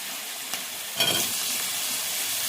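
Diced potatoes, cut in water, hit hot oil in a pan with turmeric, breaking into a loud, steady sizzle and hiss close by, with no one speaking.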